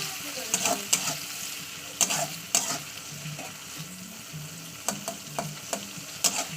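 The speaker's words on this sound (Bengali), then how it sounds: "চিংড়িটা একটু ভাজা করে নিয়ে আমি তুলে নেবো" Loud, steady sizzling of shrimp frying in a pan, broken by sharp scraping clacks of a spatula stirring at irregular intervals.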